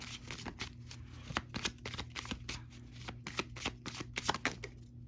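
Deck of tarot cards being shuffled nearby, with rapid, irregular riffling and flicking bursts that run continuously over low background hum, and no one speaking.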